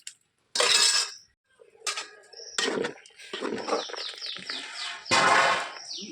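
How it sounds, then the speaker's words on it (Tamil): A spoon stirs rice, green chili and sago porridge in a cooking pot, making irregular clinks and scrapes against the metal in short bursts separated by brief pauses. "நல்லா இந்த மாதிரி கலந்து விட்டுருவோம். நல்லா வேகணும்."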